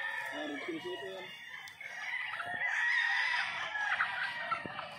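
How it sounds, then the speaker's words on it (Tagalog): Gamefowl roosters, including red Kelsos, crow repeatedly while chickens cluck close by on a game farm, with several birds calling over one another and faint voices in the background. "Daming manok."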